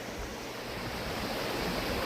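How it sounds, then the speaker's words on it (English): A small creek flowing steadily beside a driveway bridge, a constant close rushing wash of water with no talk over it. "I have the sounds of a lovely creek to keep me company."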